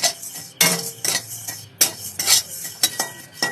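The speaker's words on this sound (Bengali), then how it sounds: "মৌরিটা ভাজছি," Fennel seeds are stir-fried in a pan as pickle spices, with repeated sharp scraping and clinking strokes of a metal spatula over a faint sizzle.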